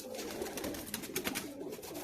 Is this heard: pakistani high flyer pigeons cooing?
yes